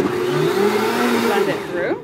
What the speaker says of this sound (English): And then I'm just going to hit the blend again.